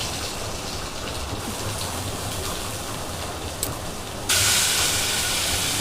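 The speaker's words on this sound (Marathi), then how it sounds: "कढईमध्ये जिरा आणि राई टाकली आहे." Cumin and mustard seeds sizzle in hot oil in a kadhai, a steady close hiss that suddenly grows louder and brighter near the end.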